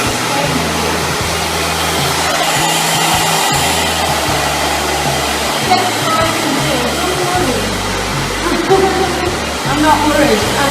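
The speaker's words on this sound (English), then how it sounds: "Just dry the hair. Yeah, big blow dry" A hair dryer blows on a short pixie haircut, its loud steady whir pulsing in level as it is moved through the hair, with people talking under the noise.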